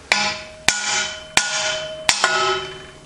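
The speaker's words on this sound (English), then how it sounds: "Use a decent ball peen hammer and tap it" Five sharp metallic ball peen hammer taps at steady intervals, driving a seal out of a 1953-1962 Corvette steering gearbox, each ringing out with a bright, lingering metal resonance, close and loud.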